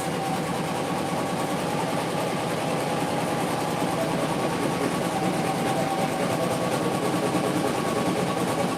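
Sewing machine stitching felt pieces for a handmade felt hamburger, a steady continuous mechanical whir running without pause at moderate loudness, with no talking over it.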